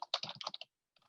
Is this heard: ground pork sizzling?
no